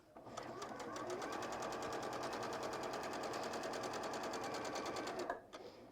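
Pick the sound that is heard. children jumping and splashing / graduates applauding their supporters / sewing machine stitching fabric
sewing machine stitching fabric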